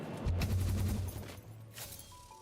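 A prototype cannon fires in the video game Satisfactory, a rough burst of low booming blasts that trails off into quieter rumble.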